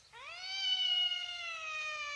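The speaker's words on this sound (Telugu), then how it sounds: "మియావ్." A single cat meow, clear and close, rising then holding a long drawn-out tone, heard on its own against a quiet background.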